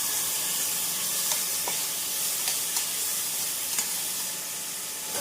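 Ginger garlic paste, onion and tomato sautéing in a pan on an induction stove, giving a steady broadband sizzle with small pops and crackles throughout, close and continuous with no talking.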